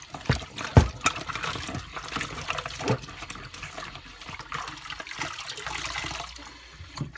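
Water running and trickling out while a Dyson DC41 cyclone assembly is rinsed, a steady close wash of flowing water with a few louder splashy bursts near the start, no talking.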